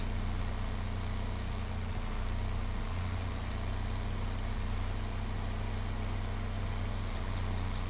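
A Ford tractor's engine drives in Farming Simulator 22, a steady low diesel drone with constant rumble and hum throughout, close and even, with no talking.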